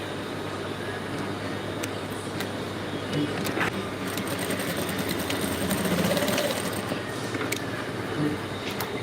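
A sewing machine stitches a pencil skirt with a steady, continuous whirring hum that runs the whole time, heard in a live sewing class.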